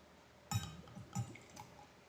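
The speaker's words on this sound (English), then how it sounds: "That's pouring this beer up." Mexicali strong dark lager beer is poured into a glass, with a few soft gurgling splashes in quick bursts, the pour heard close and faint.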